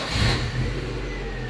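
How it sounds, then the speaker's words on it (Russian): A car engine turns over and catches during a test of the electric power windows, giving a loud low burst in the first fraction of a second that settles into a steady running hum, with no talk. "Давайте запустим двигатель."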